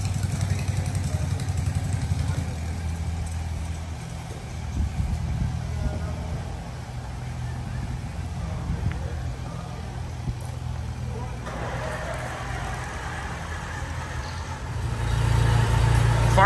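An antique Allis Chalmers tractor engine runs steadily nearby, a low continuous rumble that grows louder near the end, with people talking over it at times.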